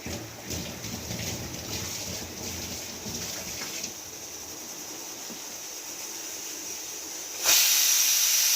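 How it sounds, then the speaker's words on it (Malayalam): A pressure cooker on a gas stove cooking onion sambar gives off a steady, loud steam hiss that continues throughout, ending in a sharper, louder high hiss burst near the end. "മൂന്ന് വിസിലായി ഞാൻ ഗ്യാസ് ഓഫാക്കാൻ പോവുക"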